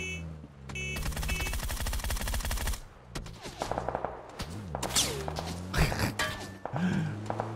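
Gunfire in the battle game PUBG on console, with bursts of rapid shots in the opening seconds followed by scattered single shots and thuds over game ambience, fairly loud and close.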